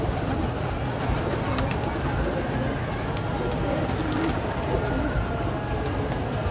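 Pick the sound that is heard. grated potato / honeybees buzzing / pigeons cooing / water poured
pigeons cooing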